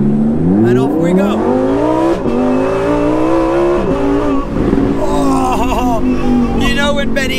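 A Lamborghini Huracan EVO RWD Spyder in Corsa mode accelerates hard on a narrow Italian countryside road, its engine note climbing through loud rising revs with quick gear shifts, close up, with people talking over it.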